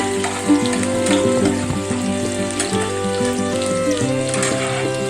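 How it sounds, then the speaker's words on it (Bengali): Chopped onion frying in oil over a low gas flame, a steady close sizzle running throughout with a few soft stirring scrapes and no talk. "এর মধ্যে দেবো প্রথমে কেটে রাখা, ছোট ছোট করে কেটে রাখা পেঁয়াজটা। গ্যাসটাকে একদম স্লো করে দেবো"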